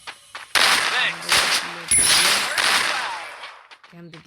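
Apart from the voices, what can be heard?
gunfire in a mobile shooter video game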